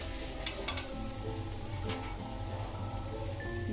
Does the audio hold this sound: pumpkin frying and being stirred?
yes